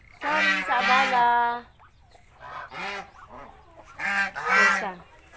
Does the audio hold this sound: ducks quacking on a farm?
yes